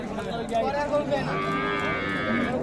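Sahiwal cattle low with a long, drawn-out moo, close and loud, over a busy background of murmuring voices and other livestock at the Ambari cattle market.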